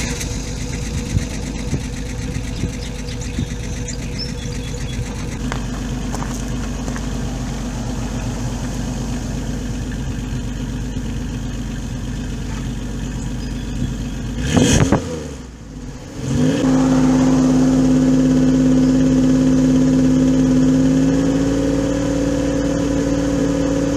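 A van engine with a blown head gasket idles with a low drone, then cranks and catches, settling into a louder, steady idle with a humming tone at the exhaust.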